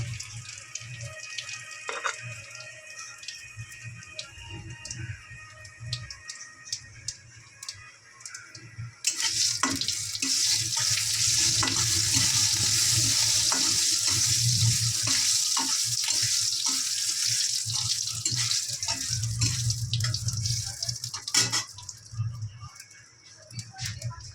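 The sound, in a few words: cumin and dried red chillies frying in oil for tempering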